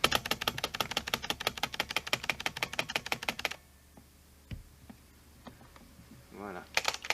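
A 1975 electro-mechanical calculator runs after a button press, rattling in a rapid, steady clatter of mechanical ticks for several seconds before stopping abruptly. A few faint clicks follow, then a short burst of clatter resumes at the end.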